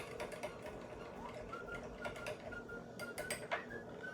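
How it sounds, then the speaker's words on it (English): A small whisk beats a sauce mixture in a mixing bowl, giving a fast, steady patter of light metallic ticks and clinks close by. "we're just going to whisk this up until it looks like milk"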